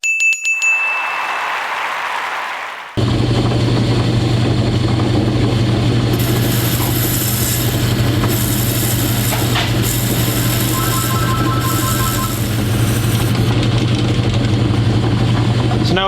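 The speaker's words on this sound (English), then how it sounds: "I'm going to turn the lathe speed down a little bit so I can knurl" A metal lathe runs with a steady motor hum and a bright whirring tone while a part is knurled, loud and continuous after a brief quieter opening.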